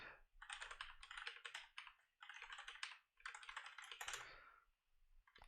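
Close, quick typing on a computer keyboard while a developer edits code, dense bursts of key clicks separated by short pauses, with no voices.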